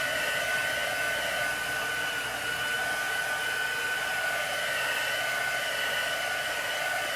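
Hair dryer blowing on wet chalk paste, a steady close whir held at even loudness from start to finish with no talk.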